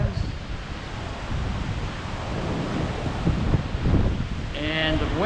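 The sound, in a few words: strong wind during Hurricane Olaf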